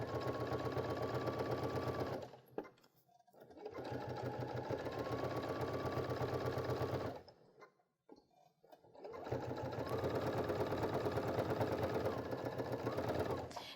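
A Baby Lock sewing machine fitted with a bias binder foot finishes a fabric edge, its fast motor stitching running loud and close in three steady bursts, separated by brief pauses with faint handling sounds.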